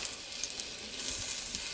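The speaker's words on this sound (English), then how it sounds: "listen to the sizzle" Zucchini sizzles on a Ninja Foodi grill grate, a soft, steady frying hiss with small crackling pops, fairly quiet and with no voices.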